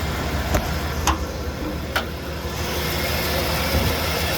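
A 1988 Ford F-150 with the 300 inline-six idles steadily close by, a smooth continuous engine drone with a few light clicks over it.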